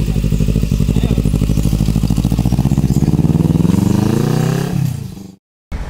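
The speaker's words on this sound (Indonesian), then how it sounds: "jadi ini saya memakai motor C70 dan ini yang punya ninja" A modified Honda C70 motorcycle styled as a Ninja revs hard with a loud, rapid putter, its engine note rising in pitch, then falls away and cuts off abruptly near the end.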